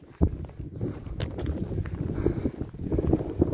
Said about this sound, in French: J'en peux plus du vent.